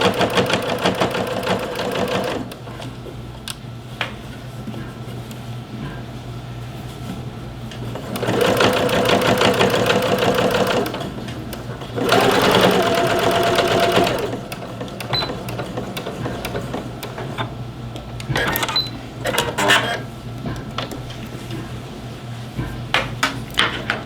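A home sewing machine stitches fabric on a Butterick sewing pattern garment, its motor whirring in loud bursts of rapid stitching separated by quieter pauses and a few clicks and knocks.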